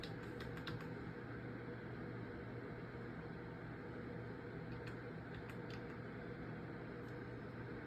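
Typing on a computer keyboard while adjusting network settings, faint light key clicks in short bursts over a steady hum of background noise.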